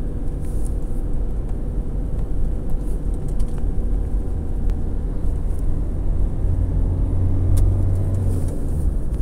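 A turbocharged car engine pulls hard at full throttle in third gear, a loud steady rumbling drone that rises slightly toward the end, heard from inside the car with no talking.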